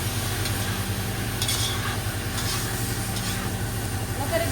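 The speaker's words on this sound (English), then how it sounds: "Give it a nice stir." A spoon stirs mutton cook-up rice in a pot with a continuous scraping, shuffling texture over a steady low hum, close and fairly loud, with a few brighter clinks along the way.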